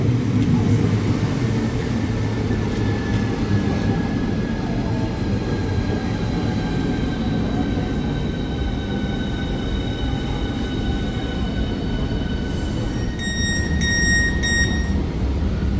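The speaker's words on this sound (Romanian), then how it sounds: "Ce bine că e trenul gol." A nearly empty passenger train riding along, with a steady loud rumble of wheels on rails, faint high squeals drifting through and a few sharp clicks near the end.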